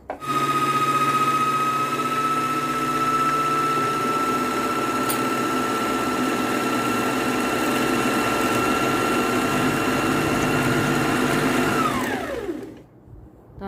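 A sewing machine runs steadily while winding a bobbin, its motor holding an even whine at full speed for about twelve seconds before spinning down and stopping, with no talking.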